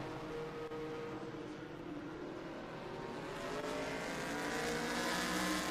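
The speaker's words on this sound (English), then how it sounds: "that battle's been going the whole time between the Corvette and the Porsche of McAllister and Lyman and Switzer." A Corvette and a Porsche race car battle closely on a track at an SVRA feature race at the Indianapolis Motor Speedway, engines droning at a distance and swelling steadily louder as they approach.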